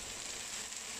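Luffa tossed with salt, sugar and oyster sauce in a hot wok, a brief steady hiss of frying oil at close range, with no talking.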